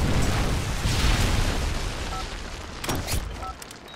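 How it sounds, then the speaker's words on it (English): A Predator missile explodes in Modern Warfare 3 with a loud, rumbling, dense blast that slowly fades over a few seconds, with sharper cracks near the end. "Friendly Predator missile inbound."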